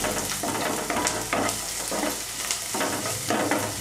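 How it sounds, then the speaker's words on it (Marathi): Onion sizzles in hot oil in a pan while a spoon stirs it in rhythmic scraping strokes roughly every half second, close and steady with no talk. "कांदा चांगला परतून घेऊया, व्यवस्थित ढवळायचं।"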